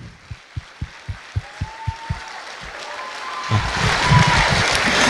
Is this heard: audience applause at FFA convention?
yes